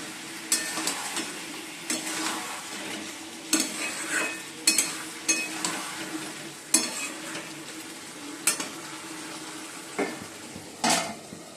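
Chicken and potatoes sautéing in a pan, a soft continuous sizzle broken by repeated scraping strokes and metallic clinks of a spatula against the pot every second or so.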